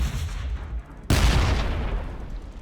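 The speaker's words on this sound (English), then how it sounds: "Send the artillery in." Artillery fires in Warhammer 40,000, the Astra Militarum against Orks: one sharp, loud blast after a short lull, then a rumbling tail of further booms and battle noise.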